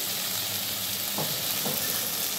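Kochur loti (taro stolons) sizzling steadily in hot oil in a pan over medium heat, with a couple of soft scraping stirs of the spatula partway through and no voices.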